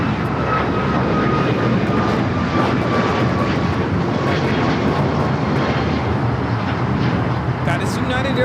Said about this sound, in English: That is United Airlines 1431 taking off to Honolulu on the MAX 9.